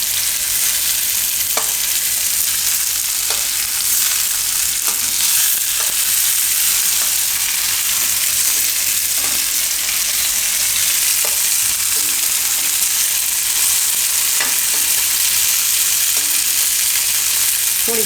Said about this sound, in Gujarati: આ રીતે શેકાશે ટમેટા એટલે એનો ટેસ્ટ એકદમ સરસ આવશે ગ્રેવીમાં